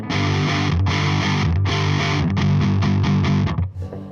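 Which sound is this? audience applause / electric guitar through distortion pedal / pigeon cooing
electric guitar through distortion pedal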